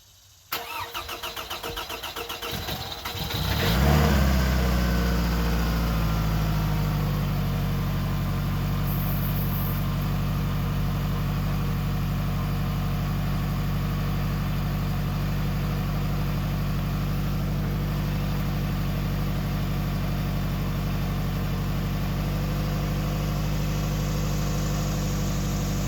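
Toyota Camry with a leaking exhaust flex pipe cranks and starts, then settles into a steady, rumbling idle with a raspy, blowing exhaust note, close and loud throughout.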